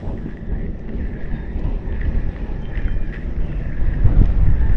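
Steady wind buffeting the microphone while fishing, a broad low rumble that swells slightly toward the end, with no voices.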